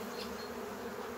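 Honeybees buzz steadily around a hive frame during a spring hive inspection, a continuous close drone with no voices.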